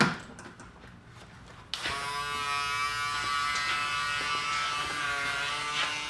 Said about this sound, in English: I like to use my Wahl Super Close 5-star Shaver Shaper.